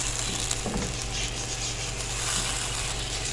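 A pan of macaroni samosa filling with chili sauce and ketchup cooks down to dryness, giving a steady close sizzle with faint stirring scrapes and a low hum beneath, no voices.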